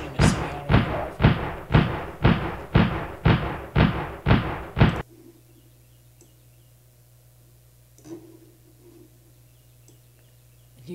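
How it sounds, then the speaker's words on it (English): A rapid run of about nine heavy, punchy shots from a semi-automatic rifle, evenly spaced and loud, then abrupt quiet with low hum and one faint knock. "you got someone shooting a semi-automatic rifle"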